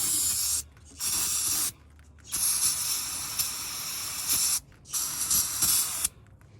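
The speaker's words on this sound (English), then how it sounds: "spray her down with some brake clean to clean up some more oil" Brake cleaner sprays in four loud, close bursts of aerosol hiss onto an oily engine of an OBS Chevrolet K1500 pickup, with short pauses and faint mechanical clicks between them.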